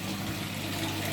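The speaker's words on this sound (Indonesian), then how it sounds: "air terjun yang mengalir kecil karena memang di setel kecil" A small, gently trickling waterfall turned down low, running into a backyard koi pond, heard as a soft continuous wash of falling water with a faint steady hum beneath, close by and quiet.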